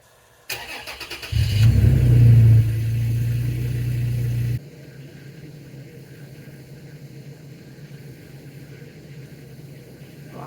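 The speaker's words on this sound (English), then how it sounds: "I'm gonna start my truck actually." A truck engine starts on a cold 5°F winter morning at a camp with a homebuilt micro camper: a cranking burst, then a loud catch and rev, settling into a steady lower idle.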